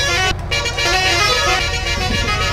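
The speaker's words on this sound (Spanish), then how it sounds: "puedes apretar los dos botones para las cornetas o el pito. Y los dos suenan a la vez" A Leyland Viking bus in Euro Truck Simulator sounds its horns together in a loud, sustained, brassy blast over the low rumble of the engine. The blast breaks off briefly and then continues.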